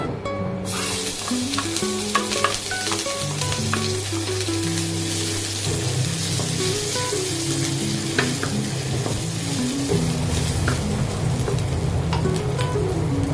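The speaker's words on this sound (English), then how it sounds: "stir fry the garlic, big onion and shallots" Garlic, big onion and shallots stir-fried in a pan, a steady loud sizzle with scraping stirring throughout, while a tune plays underneath.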